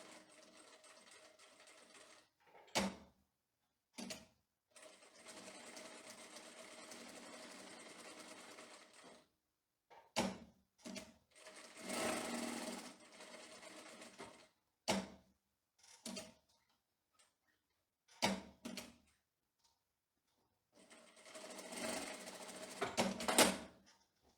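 Straight-stitch sewing machine topstitching a fine seam on tailored women's trouser fabric, running in several bursts of steady whirring stitches separated by short pauses and faint clicks, close and clear with no talk.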